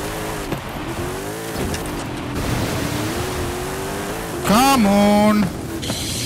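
A Jeep Willys off-roading in the Forza Horizon 5 video game, its engine droning steadily with a sharp tire squeal near the end, under game background sound.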